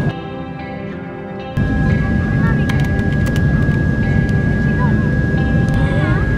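Airplane landing, heard from inside the cabin as a loud, steady rumbling engine roar with a sharp jump in level partway through and faint clunks, with a person talking over it.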